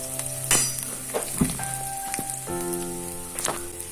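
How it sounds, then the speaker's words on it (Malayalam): Onion, ginger and green chilli with garlic sautéing in a pan for a mackerel curry, a steady soft sizzle with a few clinks of a stirring spoon against the pan, close by and with no voices. "ഉള്ളിയും ഇഞ്ചിയും പച്ചമുളകും കൂടി ഇട്ട് നന്നായി വഴറ്റിയെടുക്കുക"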